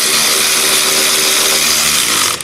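A power tool, likely an impact gun with a 17mm socket, runs in one continuous buzzing burst as it tightens a nylock nut on a spare wheel carrier, then stops abruptly.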